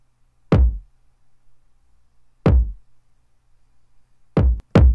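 Slowed drum machine kick drum with long delay, four deep booming hits: two spaced nearly two seconds apart, then a closer pair near the end, each with a sharp attack and quick decay into near silence.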